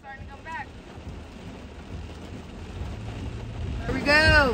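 Heavy rain and wind during a hurricane, heard from inside or beside a car: a dense, continuous hiss and rumble that grows stronger toward the end, with voices talking briefly over it at the start and close at the finish.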